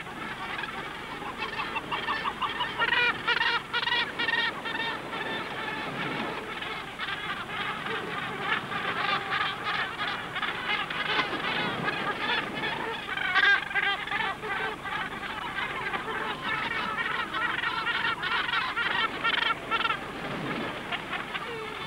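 A gannet colony on a seabird island calls without pause as birds return from the fishing grounds, a dense, harsh, overlapping chorus of many voices at a steady level.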